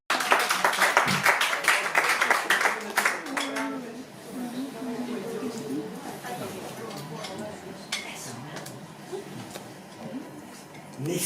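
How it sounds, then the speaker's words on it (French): At a slam poetry night in a Nice venue, a burst of audience clapping opens loudly, then thins and fades into scattered claps under a murmur of talk and crowd noise. "Et applaudissements."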